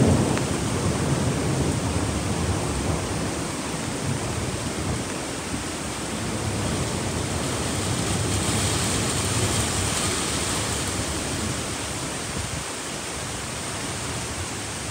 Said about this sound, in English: They're really dancing around. It's pretty windy.